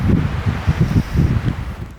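Extreme wind gusts battering the microphone outdoors at an air rifle shooting range, a loud, continuous low rumble that swells and dips in uneven surges, with no other sounds heard.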